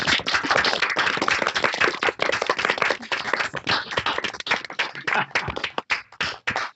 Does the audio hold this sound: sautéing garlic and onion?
no